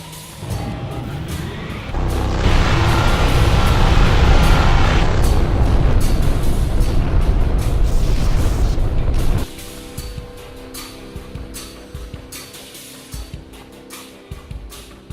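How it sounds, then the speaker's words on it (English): Primary photon beam cannons firing in the Freespace space combat game, a loud sustained roaring barrage lasting several seconds that cuts off abruptly, followed by quieter engine hum and scattered thuds. "Targeting the chiton with primary photon beam cannons."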